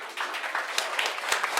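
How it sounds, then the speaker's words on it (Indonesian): An audience at a student press conference breaks into applause, a short burst of dense clapping with a few sharper claps standing out. "Berikan aplaus dulu dong."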